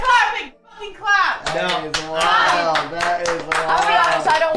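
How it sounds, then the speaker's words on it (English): Several people clap in a room, bursts of applause starting and stopping under loud talking and laughter close by. "Why are you guys clapping?"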